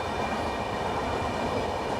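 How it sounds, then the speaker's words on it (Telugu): A passenger train pulls out of a railway station at Hyderabad, a steady, close rumble of rolling wagons with a dense rail roar and no voices. "ట్రైన్ అయితే బయలుదేరింది ఫ్రెండ్స్."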